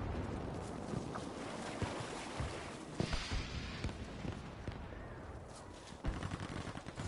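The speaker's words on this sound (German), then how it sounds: "Oh, da sind Schüsse näher" Gunfire in Battlefield V crackles in scattered shots and short bursts, some closer and sharper, over a rushing, windy game background.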